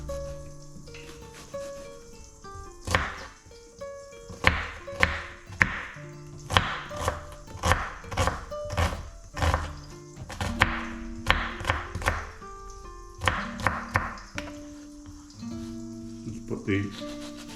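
Onions are chopped on a board for a baked beans risotto, a run of crisp, regular knife chops close by with short pauses, over faint background music.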